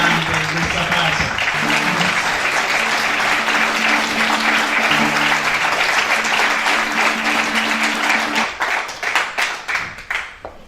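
Sustained, dense audience applause fills a theatre after a recital of a Greek tragedy in the Sicilian language, loud and steady, then thins into scattered individual claps toward the end.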